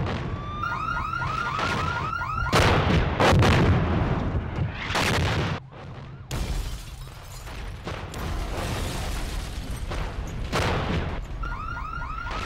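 Firecrackers go off in a street at night: rapid, loud crackling bursts and bangs mixed with a repeating car alarm that wails at the start and end.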